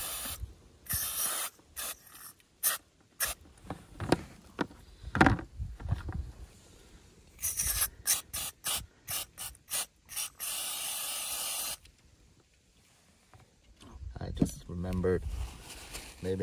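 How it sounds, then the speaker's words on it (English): Carb cleaner sprayed generously onto the carburetor of a Kawasaki Brute Force 300 ATV, a series of sharp aerosol hissing bursts, some short and some sustained, near and loud, separated by pauses with someone speaking between them. "I'm gonna spray the carburetor with a carb cleaner and let it sit for a while."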